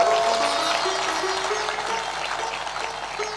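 Audience applause at a religious discourse in Viratnagar, Nepal, a steady wash of many hands clapping together, fairly loud at first and slowly tapering over a few seconds.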